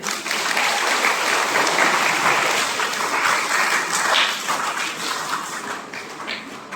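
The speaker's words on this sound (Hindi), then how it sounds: "अतः हम जोरों से तालियां बजाकर उनका भी स्वागत करें" Sustained applause from an audience at a Saint Monica feast celebration in a church community gathering, loud and steady throughout, thinning slightly toward the end.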